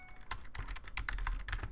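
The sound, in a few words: typing on a computer keyboard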